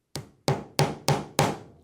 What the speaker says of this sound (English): lightly tap it so that it's fully set into the hole with my hammer